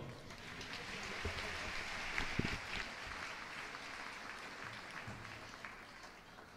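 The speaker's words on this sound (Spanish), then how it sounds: "recibamos con un fuerte aplauso a Mauro" Applause from an audience at a school graduation ceremony welcomes a musician to the stage. The clapping is faint and steady, a soft wash of hands heard from a distance.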